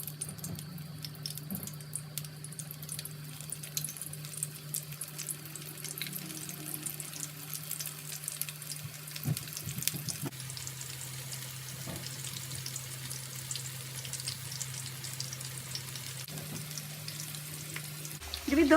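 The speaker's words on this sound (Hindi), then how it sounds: "यहाँ पे मैं पकौड़े तल रही हूँ। तेल हमारा अच्छे से गर्म है।" Pakoras frying in well-heated oil, giving a steady close hiss and sizzle with a low hum beneath and occasional brief clatters, continuing alone without talk.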